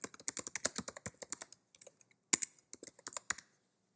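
Typing on a computer keyboard, a quick run of crisp close key clicks, a short pause, then another burst of taps, with no voices.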